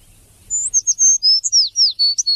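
A small bird sings a quick, bright series of high, whistled chirps in the Chernobyl zone, a dozen or so clear notes close and loud over an otherwise quiet background.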